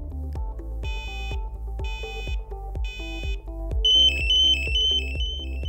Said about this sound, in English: To activate the emergency alarm, hold the alert button for 3 seconds.